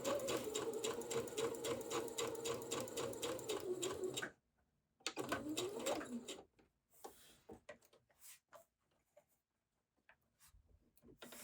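A sewing machine stitching dress fabric, a fast rhythmic mechanical chatter in two runs, the first about four seconds and a shorter burst after a pause, then quiet handling sounds with some talk.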